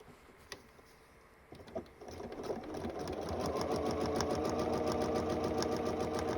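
A domestic sewing machine stitches a folded foundation paper-pieced butterfly quilt block: a few clicks and a brief start, then a steady, fast, close mechanical whirr with rapid needle chatter running continuously to the end, no voices.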